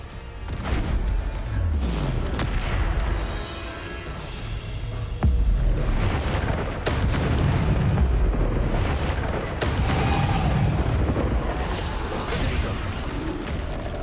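Repeated Bombarda spell explosions in the video game Hogwarts Legacy, loud booming blasts layered over a dense, continuous game soundscape with one sharp burst midway.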